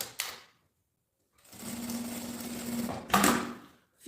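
A sewing machine stitches the lining of a cosmetic case in two bursts, a short one and then a steady run of about two seconds, with a brief louder clatter near the end. No one speaks.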